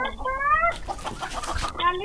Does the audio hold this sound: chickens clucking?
yes